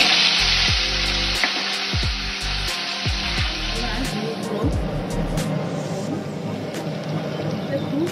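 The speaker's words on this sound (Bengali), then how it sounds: "এবার দেখুন আমি কচুরমুখীগুলো খুব ভালো করে ভেজে নেব।" Taro roots (kochur mukhi) fry in hot oil in a loud, close, continuous sizzle, with stirring knocks early on and a low hum underneath.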